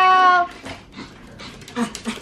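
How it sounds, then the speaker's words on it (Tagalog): Excited dogs whimper and pant in short breathy bursts after an opening high whine, close by, with a voice briefly mixed in. "Crazy dogs!"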